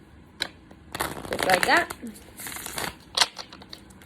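Tarot cards riffled and shuffled by hand in a close, crisp burst of flutter and slaps, with a person speaking briefly over it.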